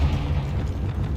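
A Confringo blasting spell goes off in Hogwarts Legacy: one short, loud, deep boom with a rumbling tail, heard alone.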